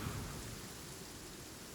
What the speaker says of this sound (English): You hear that storm?